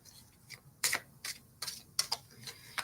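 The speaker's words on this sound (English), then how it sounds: "Just a quick light shuffle here." Light, quick shuffle of a deck of inner peace oracle cards, heard as a series of soft crisp ticks and flicks in short irregular bursts, close and quiet with no talking.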